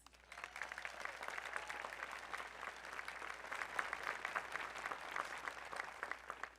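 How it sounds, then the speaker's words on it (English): Applause for graduates at the 2026 LaGrange College commencement ceremony, a broad, steady patter of many hands clapping from a large audience, rising quickly and holding evenly at moderate distance. "can I get a round of applause for our graduates?"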